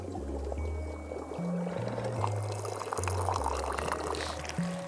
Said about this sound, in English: I pour the jam tea.